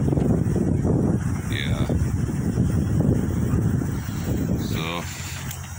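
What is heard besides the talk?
strong wind hitting a tent at a campsite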